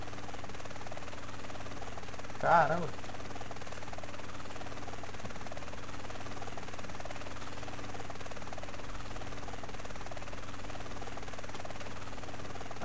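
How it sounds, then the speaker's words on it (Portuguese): A steady, buzzing helicopter drone in GTA San Andreas hums continuously like a distant insect, with one short exclaimed word near the start. "O helicóptero aqui parece um mosquito"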